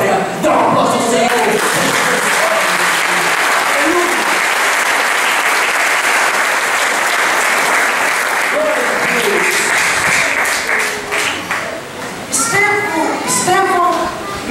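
A church congregation applauding steadily for over ten seconds, a dense, loud wash of clapping with some cheers and voices mixed in near the end.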